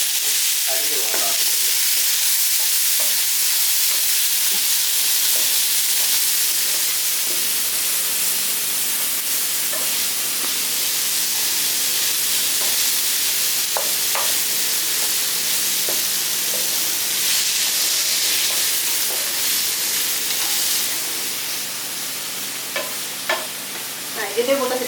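Chili powder masala sizzles steadily in a pan over a low flame for a green papaya dish, with a continuous loud hiss and occasional stirring scrapes throughout.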